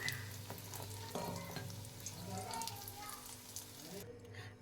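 Bori, small lentil dumplings, frying in oil in a kadai, a steady close sizzle with occasional stirring scrapes, ending abruptly near the close.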